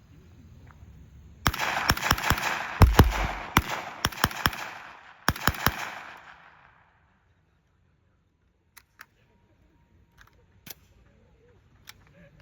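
Several 20th-century firearms fire blanks in a burst of sharp, loud reports with irregular spacing, some shots close together, then a long quiet stretch with a few faint clicks and taps.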